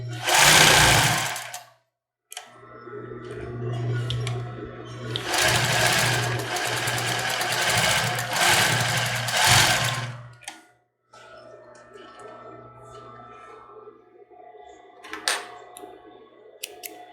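A sewing machine runs a small zigzag finishing stitch along the back seam ends of a cropped top, in a short opening burst, then a longer steady run, and then a softer intermittent stretch with scattered clicks.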